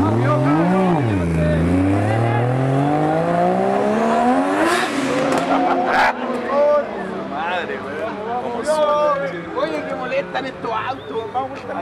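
A sports car engine at a Chilean Cars and Coffee gathering blips and then winds up in a long rising rev that peaks and drops away, close and strong, with people shouting nearby.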